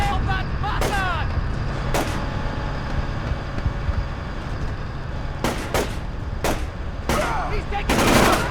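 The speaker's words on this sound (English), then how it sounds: "He's taking shots! He's there somewhere!" Bursts of gunfire in the stealth video game Splinter Cell Chaos Theory ring out in several sharp separate volleys spread across the stretch, loud and near, over a low steady game backdrop.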